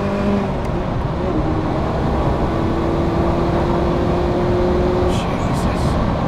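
Ferrari F40, a nearly 30-year-old supercar, with a loud, steady engine roar filling the whole cabin as it accelerates hard, a sustained drone with a rising tone running beneath.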